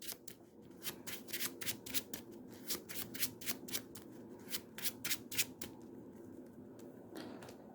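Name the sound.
shuffling cards into a card game deck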